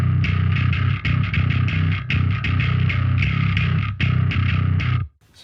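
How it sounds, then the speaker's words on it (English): A bass played through the Neural DSP Darkglass plugin on a preset gives a clean but slightly gritty tone with heavy low end, a loud run of quick picked notes that stops abruptly at the end. "the clean bass tone sounds like this"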